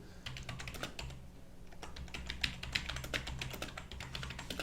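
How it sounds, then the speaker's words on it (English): Rapid, loud clicking of keys on a computer keyboard during an online chess blitz stream, a steady rhythm of close keystrokes with a low electronic hum underneath. "Sorry for all the loud typing."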